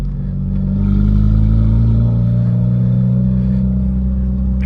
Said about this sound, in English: they did not do the car any favors with that exhaust